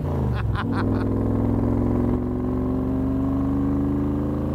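A 1965 Shelby Cobra driving on a ride, its V8 engine a loud steady low rumble with a brief burst of revving at the start, close and continuous throughout.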